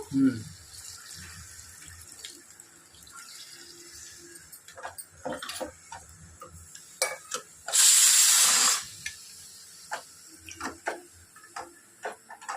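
A brief burst of water poured into a pan of cooked spices for a drumstick chicken curry, lasting about a second, loud and close, amid quiet kitchen clatter and scattered clicks.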